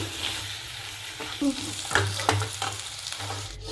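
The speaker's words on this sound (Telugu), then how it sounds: "లైట్గా ఒక టూ మినిట్స్ ఫ్రై చేసుకోండి చాలు" Steady sizzling of food frying in a pan, with occasional scraping and stirring knocks and a low hum underneath; no voices.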